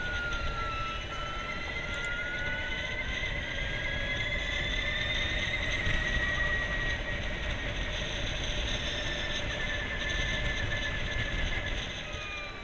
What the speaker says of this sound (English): there is that jet engine whine of the Livewire